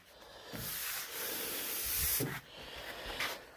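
Dry, hissing sanding strokes on the body of a 1986 Ford F150 truck, close and fairly loud, with several long passes separated by short pauses.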